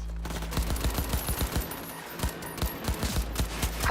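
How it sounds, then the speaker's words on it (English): Rapid bursts of gunfire from the Cyberpunk 2077 video game, a dense run of loud, closely spaced shots that rattle on for nearly four seconds with only a brief lull midway. "Heard shots"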